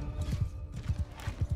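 Horses gallop in the Mount and Blade Bannerlord video game, a fairly faint rhythmic run of hoofbeats thudding in quick pairs under a light battlefield wash, with no speech over it.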